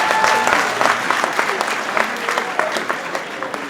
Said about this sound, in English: If you want to clap, you can feel free.